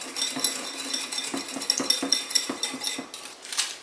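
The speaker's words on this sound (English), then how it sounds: "we're just going to mix this and get that sugar all dissolved in there" A salad dressing of olive oil and sugar is mixed in a bowl, with quick, rhythmic clinking and scraping of a utensil against the dish, close and moderately loud, without talk.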